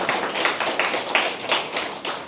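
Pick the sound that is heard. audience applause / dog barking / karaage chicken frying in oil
audience applause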